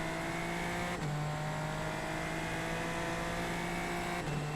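Super Formula Lights race car driven in the rain at Road Atlanta, a steady, loud, high-pitched engine drone from onboard, with brief shifts in engine note as gears change.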